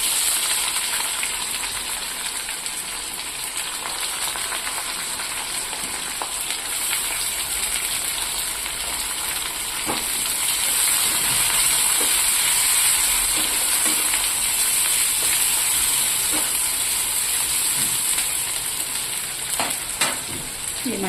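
Onions sizzling steadily in hot oil with cumin seeds and dried red chillies for a tempering, a continuous close hiss with occasional faint stirring clicks and pops.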